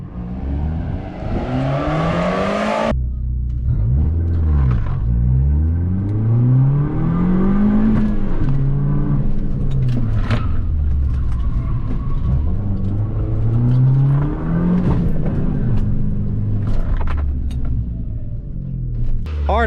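An Abarth fitted with a Racechip tuning module in race mode accelerates hard from a standstill, its engine rising in pitch through several gear changes, loud and close with a steady rumble and no talk.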